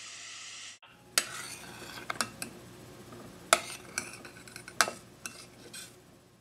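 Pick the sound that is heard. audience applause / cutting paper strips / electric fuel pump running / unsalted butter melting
unsalted butter melting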